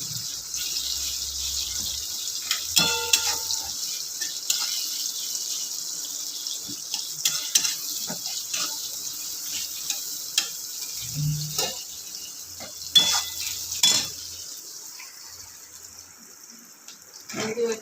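Pointed gourd and potato pieces frying in oil in a home kitchen give a steady, faint hiss, broken by occasional clinks and scrapes of a utensil, with a few quiet voices in the background.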